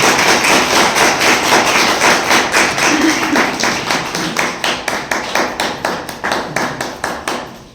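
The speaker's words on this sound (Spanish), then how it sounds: "Gracias, un aplauso." An audience applauds after a lecture in a former Franciscan convent, dense clapping at first that thins into a rhythmic, slowing pattern of loud, sharp claps near the end.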